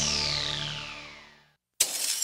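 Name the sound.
glass shattering, house being trashed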